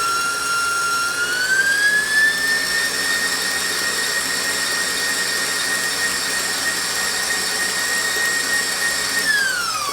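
An electric mixer with an attachment runs steadily through strawberry cake batter made from a cake mix, a loud continuous whine that ramps up in pitch early on and drops as it stops at the end.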